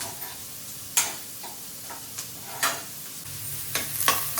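Onions frying in a pan make a faint, quiet sizzle with scattered sharp taps and scrapes of stirring, several distinct knocks standing out against the low background.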